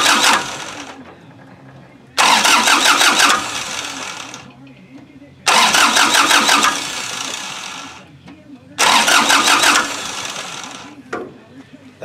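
Kubota L2350 tractor diesel engine cranking without starting, its starter grinding in three loud bursts of a second or two each, separated by quieter gaps.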